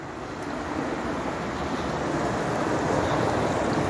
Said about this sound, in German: Bach läuft mehr als ein bisschen über.